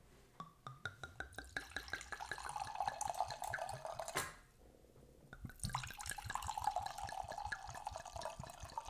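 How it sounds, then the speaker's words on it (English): Red wine, a Ghost Pines Red Blend, dripping and trickling into a glass in a steady run of soft drops, pausing briefly midway before resuming, close and fairly quiet. "Sorry, I'm so paranoid over the dripping wine."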